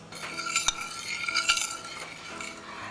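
A utensil stirs blintz batter of flour and liquid in a bowl, soft scraping swirls with a few sharper clinks against the side, close and fairly quiet with no talking.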